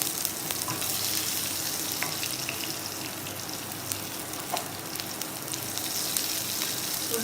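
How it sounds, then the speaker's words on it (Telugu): Onions fry in a pan with shahi jeera and fennel seeds, producing a dense, continuous sizzle at close range with occasional faint crackles. "ఉల్లిపాయలు కొంచెం ఫ్రై అవుతున్నప్పుడు"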